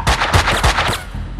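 Gunfire in the video game Max Payne 2 on PS2 bursts out as a rapid, loud volley of shots lasting a little over a second, then fades.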